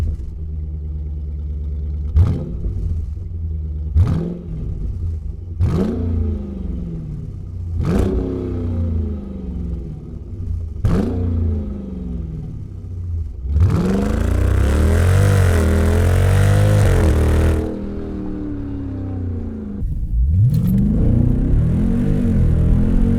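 A Jeep SRT Grand Cherokee with a mandrel-bent 409 stainless steel 3-inch Pypes exhaust revs five times in sharp, evenly spaced blips, then holds a long loud rev and fires one last blip; no talking.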